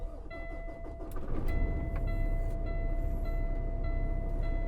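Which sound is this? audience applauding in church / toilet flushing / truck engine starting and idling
truck engine starting and idling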